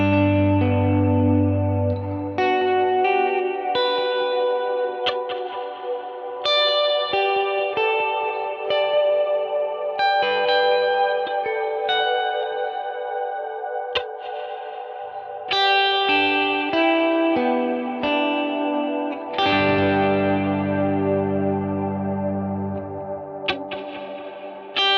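An electric guitar plays through a Kemper with ambient reverb and delay, its chords and single notes ringing out with echoing repeats and long, washy tails that layer over one another.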